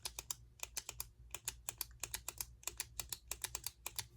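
A Tul metal gel pen's click mechanism snaps repeatedly, a long run of crisp, close, quiet clicks in an uneven quick rhythm, with no voice over them.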